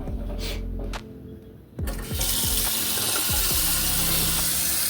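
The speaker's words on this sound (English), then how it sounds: "let's wash my hands." A few clicks and knocks at a bathroom sink, then the tap opens and water rushes steadily into the basin for hand washing, loud and close.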